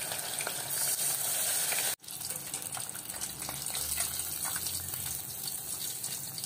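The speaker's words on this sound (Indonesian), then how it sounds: "Kita masukkan lagi 2 ekor ikan. Kita goreng juga semua dia." Two fish sizzle steadily in hot oil in a frying pan for Thai-style fried fish, a dense close crackle and hiss that cuts out briefly for an instant before resuming at the same level.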